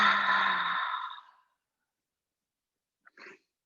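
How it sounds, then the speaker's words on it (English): Deep open-mouth exhale during a yoga Shavasana cool-down, a long breathy whoosh that fades out over about a second and a half, followed after a pause by a short, faint breath sound. "take a deep inhale. Open mouth exhale."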